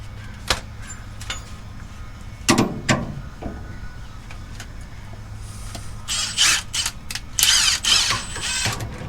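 Mechanical ratcheting and metallic clicks from tightening shock bolts on a lowered Ford Ranger, coming in short bursts with quiet gaps, louder clustered clicking near the end.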